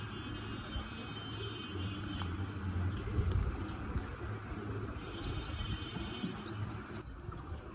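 Pigeons coo softly in repeated low, throaty phrases with occasional chirps, set against steady background noise, moderately near and without talk.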